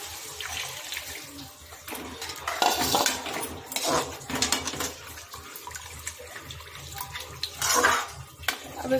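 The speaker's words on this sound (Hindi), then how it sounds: "बन गया है, पहले हम इसमें पानी डाल देंगे।" Water poured into a pan of besan masala curry, sloshing and splashing with metal utensil clinks and stirring, moderately close, no talk.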